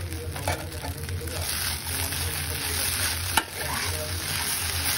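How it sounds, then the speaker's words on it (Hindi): Poha with vegetables roasting in a hot pan, a continuous close sizzle with scraping stirring strokes and one brief clatter, no talk. "सब्जी से हमारा पोहा भी बढ़िया तरीके से भुन गया है तो हमारी जो भुनी हुई मूंगली है वो डाल देंगे"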